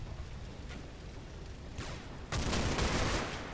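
Bursts of gunfire from the World War II strategy game Combat Mission: Battle for Normandy, with a dense crackling rattle that swells and then jumps to a loud sustained volley near the end.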